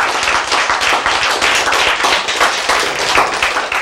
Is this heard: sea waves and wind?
no